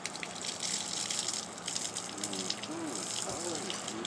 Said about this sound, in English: Playing with water.